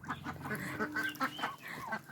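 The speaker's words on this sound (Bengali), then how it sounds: "হাঁস রাখার খামার" Ducks on a duck farm give a busy stretch of overlapping quacks and honking calls, fairly close and loud, with no speech.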